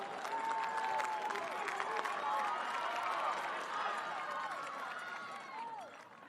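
A home crowd at a WIAA boys state soccer championship, West De Pere versus Union Grove, roars and cheers continuously, a dense, loud wash of voices with scattered whistles and clapping.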